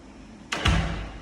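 Wooden door on a hydraulic hinge swinging shut in a hinge factory: a brief swoosh followed by a solid, muffled thud as it closes, then a low fading rumble.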